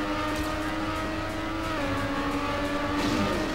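Car engine from the Trackmania Nations Forever racing game, a steady droning hum with shifting pitch as the car keeps driving, loud and continuous with no talk over it.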